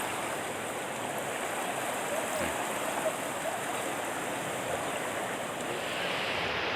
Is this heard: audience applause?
no